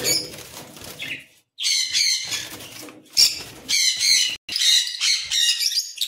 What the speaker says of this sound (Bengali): পাইনাপেল পাখি।